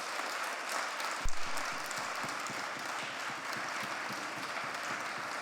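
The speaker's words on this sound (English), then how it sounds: "So let's give them a big round of applause." A conference audience at an event on addressing hate and racism gives the organising team a sustained, even round of applause, with a single louder thump partway through.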